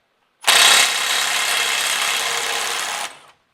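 Snap-on Stubby CT9038 18V cordless impact wrench hammering on a bolt to break it free, a loud, dense rattling burst of about two and a half seconds that starts abruptly and stops.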